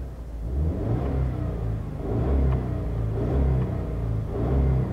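A 2015 Subaru Levorg 1.6 GT-S with a 1.6-litre turbocharged boxer engine revs in repeated rising and falling pulses, a close, steady mid-pitched drone with no talking.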